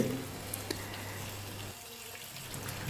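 Spiny gourds are rinsed under running tap water, giving a steady, close splashing hiss that eases partway through, with faint clinks and no one speaking.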